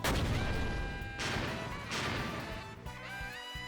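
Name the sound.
series of explosions rocking the ground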